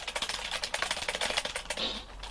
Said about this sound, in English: sorry you can hear keys, hammering mechanic is